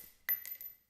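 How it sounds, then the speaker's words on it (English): Spent gun shell casings of different calibers drop onto the ground, giving a few quick, faint metallic clinks and ringing taps close to the mic with no one speaking. "I also took home a handful of different caliber casings to record them being dropped on the ground"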